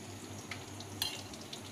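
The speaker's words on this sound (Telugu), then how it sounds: "కొంచెం వేగిన తర్వాత గుడ్లు వేసి వేపాలి." Eggs frying in a pan with cumin, fenugreek and mustard seeds for an egg curry, a soft steady sizzle with a few faint clinks of a utensil, quiet and with no talking.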